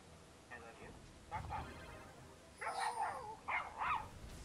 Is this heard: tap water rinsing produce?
no